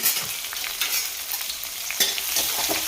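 Chopped green chillies sautéing in hot oil for a Marathi-style harbhara greens dish, with a steady close sizzle and brief stirring scrapes, no voices.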